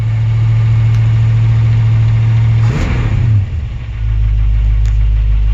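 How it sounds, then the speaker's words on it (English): Idling close and loud, a 1934 Ford pickup engine warms up with a steady low rumble; a short throttle blip midway rises and falls, then the idle settles lower. "the idle drops down once you blip the throttle there"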